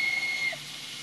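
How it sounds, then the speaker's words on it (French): Steam locomotive letting out a sharp, loud whistle that cuts off after about half a second, leaving a steady hiss of escaping steam. "La vapeur."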